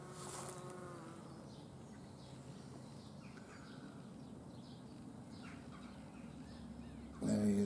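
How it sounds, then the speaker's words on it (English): A bee buzzing around a red oriental poppy makes a faint, wavering insect drone that stays steady at close range over quiet outdoor background, before a louder burst of noise at the very end. "the bee. And there's two bees in there, is there?"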